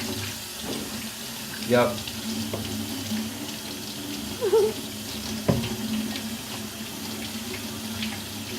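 A kitchen tap runs steadily while soap is rinsed off hands, a constant close hiss of water with a few splashy bumps, and a brief spoken word partway through.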